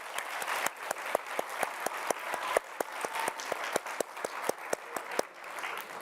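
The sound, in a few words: applause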